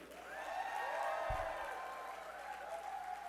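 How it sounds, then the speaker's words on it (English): A gala crowd gives a round of applause, faint, diffuse clapping heard from a distance under a loud hum and a thump. "Give a big round of applause to Deepak Raj, Neil Makija, Chintan."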